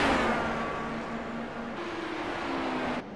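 Pro Mazda race car engine on a road course at Canadian Tire Motorsport Park, heard on board as a steady, loud sustained drone with a steady whine, shifting pitch slightly midway and cutting out abruptly near the end.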